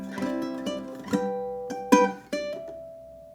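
A ukulele plays a bar of a song, with several plucked and strummed chords in an uneven rhythm ending on a ringing note, close and clear with no voices.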